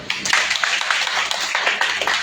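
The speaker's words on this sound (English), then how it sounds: "Once again, give a round of applause to our fabulous celebrant, Tita Olive." A birthday audience at a resort on Guimaras Island claps for the celebrant, a brief burst of close, dense applause with sharp, uneven hand claps.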